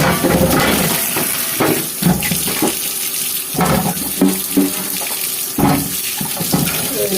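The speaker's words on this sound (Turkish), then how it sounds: "Tabii ki de bol suda e, bunları yıkayalım." Cucumbers being washed under a running tap in a sink, a steady stream of water splashing over them, with irregular louder splashes and clunks as the vegetables are handled close by.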